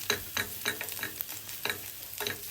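Egg fried rice being stirred and fried in a pan: a steady run of scraping strokes at a quick, even rhythm over a soft, continuous sizzle, close and fairly quiet, with no talking.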